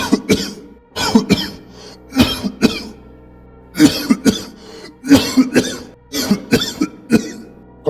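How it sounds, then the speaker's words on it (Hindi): An elderly man coughing hard and loud in a forest setting, close up, in repeated fits of two or three harsh coughs separated by brief pauses. "खांसी बहुत जोर से आ रहा है"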